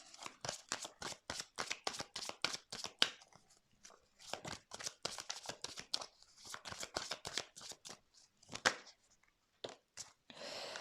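Tarot cards shuffled by hand close up, a rapid series of crisp riffling flicks in quick bursts with brief pauses between runs, fairly quiet with no talk over it.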